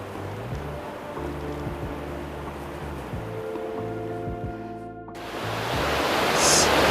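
Water rushes down the Towa Creek Cascades near where it empties into Bradley Fork, a steady roar that swells louder toward the end, with a low droning hum in the first part.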